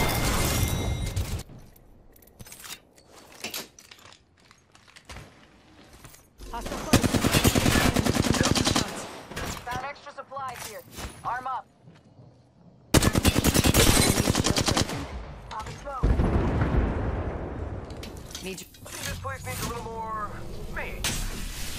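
Apex Legends firefight with long bursts of loud automatic weapon fire, stopping and restarting several times, with short quiet gaps and spoken game callouts between volleys.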